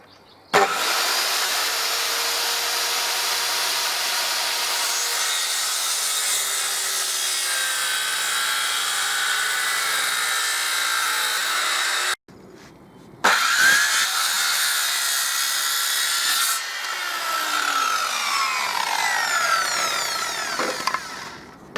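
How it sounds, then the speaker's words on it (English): A circular saw cuts bit by bit along a curved line in a wooden board, making a loud, steady, high-pitched whine with a grinding edge. The sound breaks off briefly in the middle, then the saw starts up again and keeps cutting. "now I'm going to use the circular saw to go as close to this line as I can"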